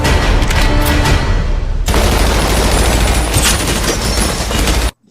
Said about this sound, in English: John Connor immediately opens fire.